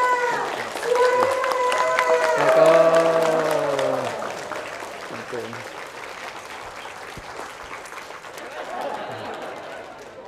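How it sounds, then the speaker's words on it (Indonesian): A large audience claps steadily for a preacher at an advice gathering for British Propolis partners in Yogyakarta; dense, sustained applause fills the room for several seconds, with tonal sound and voices layered over it. "Kita berikan tepuk tangan yang meriah"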